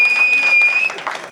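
An audience at a poetry recital claps briefly, a dense burst of applause that fades out within about a second, with a steady high whine running underneath.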